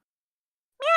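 A person imitates a cat's meow with a single short, rising vocal meow that starts abruptly near the end after silence, close and fairly loud.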